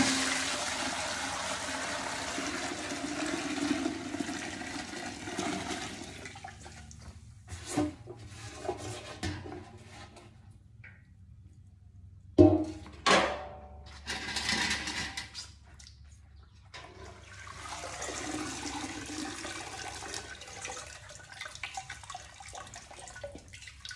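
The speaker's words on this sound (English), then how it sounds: "I'm just going to strain the rest of the liquid out." Plant dye liquid from dye garden leaves is strained out, with soft trickling and pouring that gives way to quiet, then a few sharp clinks and splashes before more running liquid resumes, close and fairly faint.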